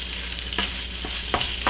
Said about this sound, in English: I'm going to go with the Taco Bell route and cook the steak all the way through